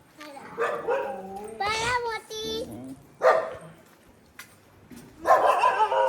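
A dog barks outside, a few sharp, fairly close barks and yips mixed with people and someone talking nearby.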